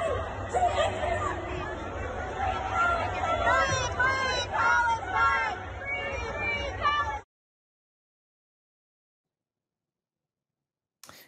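Pro-Palestine protest crowd on a Chicago street ahead of the Democratic National Convention, with dense shouting and chattering voices and some laughter, loud and close for about seven seconds before cutting abruptly to silence.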